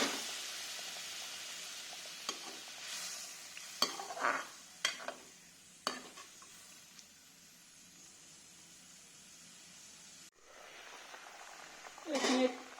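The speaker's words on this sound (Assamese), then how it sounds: "এতিয়া ইয়াত পানী দিম।" Water is poured into a pan of frying Chitol fish curry made with poppy seeds and mustard. Scattered stirring clinks and soft sizzling lead up to a sudden loud hissing surge near the end.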